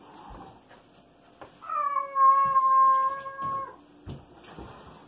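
A cat lets out one long, loud, sustained caterwaul lasting about two seconds, set among softer scuffles and thumps nearby as two cats square off in a fight indoors.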